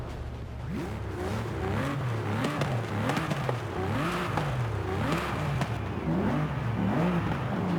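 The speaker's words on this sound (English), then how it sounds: "this is a GT car, so I can't expect this thing to have like a big screaming V12. This is more of like a relaxing V12." A V12 GT car drives in Forza Horizon 5, its engine note rising and falling in repeated smooth revving sweeps as it shifts, loud and steady throughout, with no talking.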